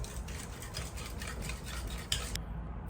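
Utensil whisking French toast batter in a bowl, a fast, steady rhythm of close scraping with one sharper clink near the end before it stops abruptly.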